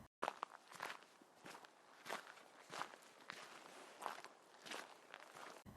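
Footsteps crunching steadily at a walking pace, about a dozen soft, evenly spaced steps, faint and slightly distant, alone without talk.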